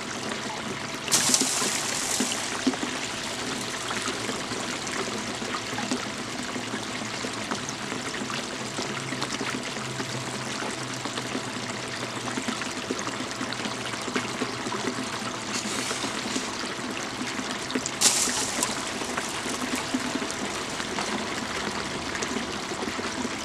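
Water flowing steadily over a homemade sluice mat, a continuous rushing trickle close by with a couple of brief sharper splashes, no talking.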